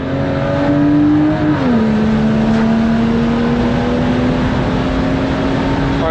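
A BMW 335i engine pulling steadily under partial throttle, a sustained drone that dips briefly at a gear change then settles into an even, slowly rising tone, close and loud inside the car.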